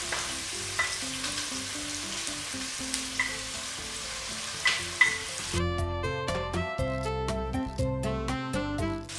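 Ingredients for ropa vieja sizzle and fry in a pan, a steady crackling hiss that grows louder and brighter partway through as more food hits the hot oil, with occasional stirring clinks.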